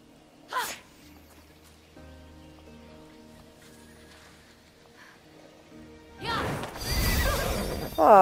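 Horse in the Fenyx video game, a short sharp snort or whinny early on, then a quiet stretch of soft game ambience before a loud, drawn-out neigh with rustling and hoof movement near the end.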